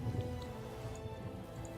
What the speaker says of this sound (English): it's still raining, and you can hear the sound effects